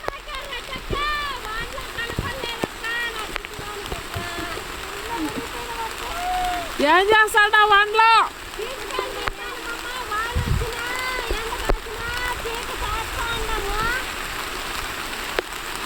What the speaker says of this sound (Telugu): గట్టిగా పడుతుందా స్లోగా పడుతుంది వర్షము